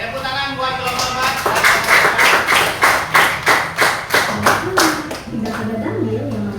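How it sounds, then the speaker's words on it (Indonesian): A classroom group claps for the fourth team presenting in an Islamic education teaching session, a burst of dense hand-clapping lasting about five seconds before fading into children's chatter. "Oke, tepuk tangan buat kelompok 4"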